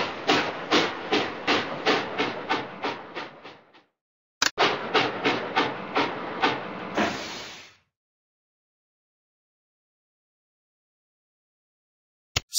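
A cartoon steam train in a Curious George video game chuffs in a quick, regular run of loud puffs, pauses briefly, then chuffs again and ends with a long hiss of steam before silence.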